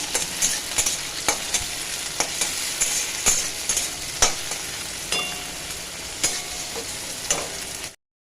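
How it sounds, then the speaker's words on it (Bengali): Bitter gourd frying in oil in a pan makes a continuous sizzle, broken by sharp clicks and scrapes of a utensil stirring it at irregular intervals, close and fairly loud, with no speech. "করলাটাকে একটু ভাজা ভাজা করি।"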